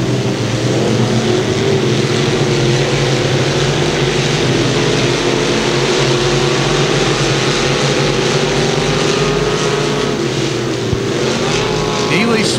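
Northern Sport Mod race cars in a heat race at Thunder Hill Speedway, a continuous loud engine drone with droning harmonic tones, under a commentator's steady voice.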